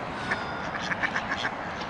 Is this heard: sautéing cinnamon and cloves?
no